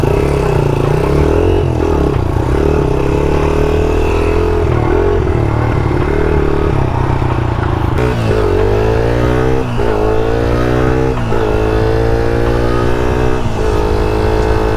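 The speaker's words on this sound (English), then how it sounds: "Let's go rip around on the XR80." Honda XR80 motorcycle ridden on the street, its small single-cylinder engine loud and close throughout, revving up and down through repeated gear-change rises.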